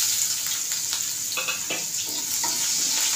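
Chopped onion fries in hot oil with asafoetida for a bhendi kadhi, a continuous close, bright sizzle with occasional stirring scrapes and no talking.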